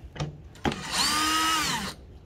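A handheld power drill runs in reverse to back a screw out, a couple of short clicks followed by one steady, loud close-up whir lasting about a second with a falling tone as it stops.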